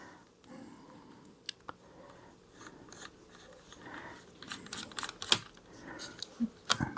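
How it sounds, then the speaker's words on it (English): A very small retainer screw being driven into its hole during an Alienware computer upgrade gives off faint, sparse ticks and scrapes over a quiet background, with a few sharper clicks toward the end. "And we just got to put the screw in. Very small screws."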